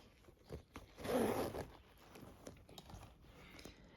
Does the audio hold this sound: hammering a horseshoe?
no